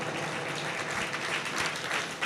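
An audience gathered at a Jain religious discourse claps in a dense, continuous burst of applause with no break, loud and close throughout.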